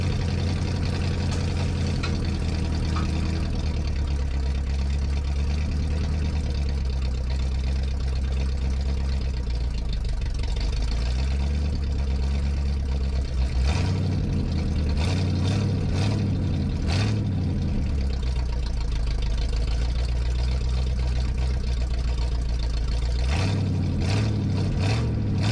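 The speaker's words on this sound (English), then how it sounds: "it sounds pretty good with the glass packs" A truck engine with glass pack mufflers idles with a deep, throaty rumble, rising briefly in a few quick revs before settling back to a steady growl.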